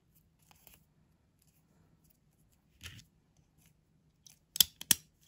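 Scissors cut paper while a slide decoration is being made, giving a few sparse, quiet snips and then two or three sharp, close cuts near the end, in an otherwise hushed room.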